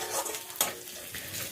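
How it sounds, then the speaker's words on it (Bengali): Chopped onion and garlic frying lightly in oil, with a soft sizzle and a sharp stirring scrape partway through, brief and close. "পেঁয়াজ আর রসুনটা একটু হালকা করে ভেজে নেব"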